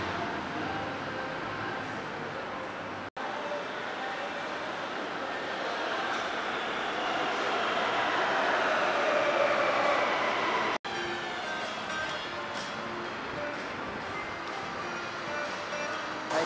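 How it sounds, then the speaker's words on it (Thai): A Bangkok MRT Blue Line metro train arrives at a station with a broad, steady rushing roar that swells and eases over about sixteen seconds, heard from the platform with no talking. "รถไฟกำลังวิ่งมาแล้วครับ"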